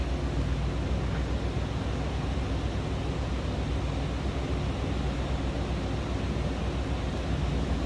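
A steady low rumble of an idling 1983 Oldsmobile Delta 88 Royale sedan engine, heard from behind the car, constant and unchanging, close by with no voices.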